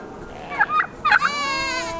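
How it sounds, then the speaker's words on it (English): Turkeys on a homestead let out two quick, loud gobbles close by, followed by a longer trailing warble that tapers off. "Hello, turkeys."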